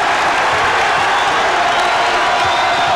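A packed basketball arena crowd at a 1989 Illinois versus Iowa college game roars and cheers continuously, a loud dense wall of noise that holds steady throughout with no break.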